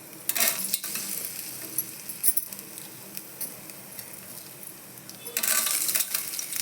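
Urad dal frying in oil in a pan for Andhra-style brinjal chutney, stirred with a utensil. A soft, steady sizzle is broken by scattered scraping clicks, with brighter bursts of stirring near the start and the end.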